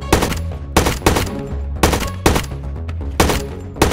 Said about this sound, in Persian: بسیر، بشین و با هدفگیری به سمت اهداف خودت شلیک کن.